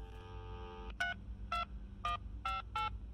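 Payphone being dialed in the horror video game Lust from Beyond: M Edition: a steady electronic tone gives way to five crisp, evenly spaced keypad beeps, loud and clear over a low background hum.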